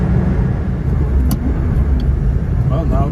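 A 1999 Ferrari 550 Maranello moves through traffic with a constant low engine and road rumble. A few faint brief sounds rise above it, and it sits under steady background noise.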